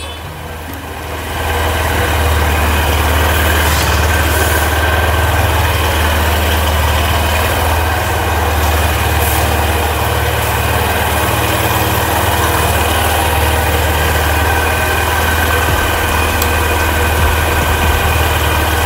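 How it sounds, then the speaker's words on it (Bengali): A Honda SP125 OBD2B motorcycle idles at a showroom, its engine starting up and then holding a steady low exhaust rumble for the rest of the stretch, loud and close. "সাইলেন্সারের সাউন্ডও শুনে নিলে তোমরা।"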